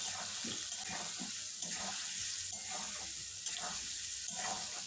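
Amla pickle mixture with salt being stirred, a soft, moist sizzling texture broken by repeated gentle scraping strokes at an even pace, fairly quiet and close with no talk.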